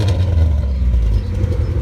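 A Honda/Acura Integra Type R engine runs close by with the hood closed, giving a steady, deep, loud rumble with slight waver and no talk.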